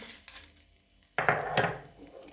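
A spoon clinks and scrapes against a metal bowl while tempering is stirred into coconut chutney, giving a few sharp scraping bursts separated by brief pauses.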